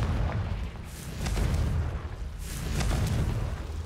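A Confringo blasting spell fires in Hogwarts Legacy, giving deep booming bursts that roll out twice across the span, heavy low rumble swelling and fading, loud and close with no talking.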